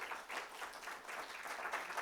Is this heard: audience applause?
yes